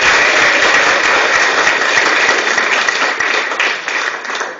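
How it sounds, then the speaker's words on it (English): An audience at a master gardeners' club general meeting applauds: dense, loud, sustained clapping from a roomful of people that slowly tapers toward the end. "Let's give him a round of applause."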